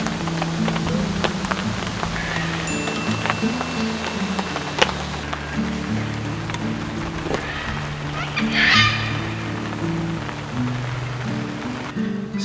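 Rain patters steadily on a campsite shelter during a wet-season camping trip in Australia, a constant soft hiss with low musical tones running underneath.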